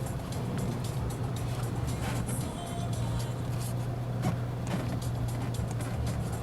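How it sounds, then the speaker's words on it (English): A Volkswagen Polo 1.0T automatic pulls away in drive, heard from inside the cabin as a steady low engine hum and road rumble. The sound stays even and moderately quiet throughout, with no voices. "So we're now driving off."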